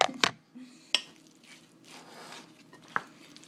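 A wooden spoon stirring carrot salad in a bowl, giving a few close, sharp clinks and knocks with soft wet scraping and shuffling between them, quiet overall.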